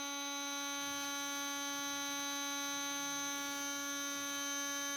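An RC drag racing motor with freshly replaced bearings spins at 33,000 RPM and gives off a steady, buzzing high-pitched whine that never changes in pitch or loudness, close up and with no voices.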